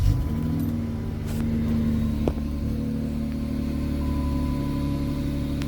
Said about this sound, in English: Now you can hear those suckers ripping.